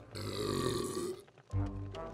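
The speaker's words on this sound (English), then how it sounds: "excessive burping." A person burps twice in close succession, the first a drawn-out belch and the second a shorter, lower one, heard near and alone.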